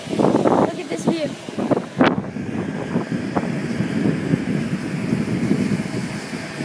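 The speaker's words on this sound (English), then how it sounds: "You guys and me are now at the top, and I know it's very windy." Strong wind buffets the microphone on top of a bin, a steady low rumble running throughout with a gust near two seconds, while people talk over it.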